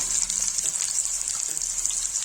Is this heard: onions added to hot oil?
yes